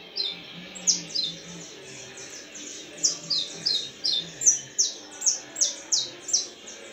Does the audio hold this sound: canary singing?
yes